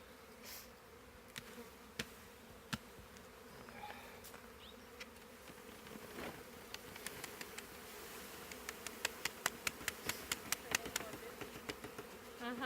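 Honey bees buzz in a steady drone, with sharp clicks and taps growing more frequent toward the end; faint voices occasionally.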